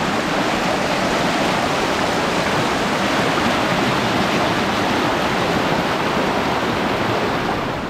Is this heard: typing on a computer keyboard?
no